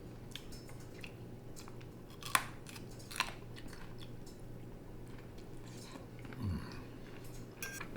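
Someone chews crunchy cooked shrimp from a fettuccine and spinach dish, giving a few soft crunches and bites at close range over quiet background.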